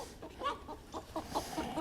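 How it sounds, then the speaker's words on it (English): Faint, rapid clucking from a small rooster being chased, short agitated calls repeating over background noise at a distance. "little rooster getting chased around."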